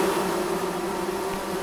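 Bees buzz in a steady, close drone in the woodland game Among Trees, a continuous insect hum with no talking.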